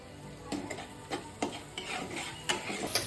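Spice paste with salt, turmeric and chili powder stirred and fried in a pan for a prawn curry, giving soft scraping strokes at an irregular rhythm over a light sizzle, close and fairly quiet with no talking.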